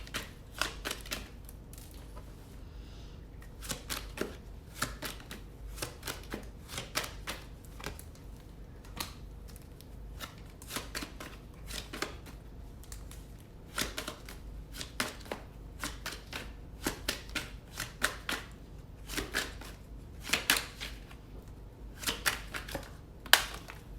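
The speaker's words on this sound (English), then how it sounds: "Let me go ahead and shuffle and see what we gonna get out." Repeated crisp, dry snaps and riffles of tarot cards being shuffled, in irregular bursts over a long stretch, close and moderately quiet.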